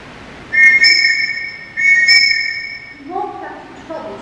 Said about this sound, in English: The children have learned to come only when they hear their whistle.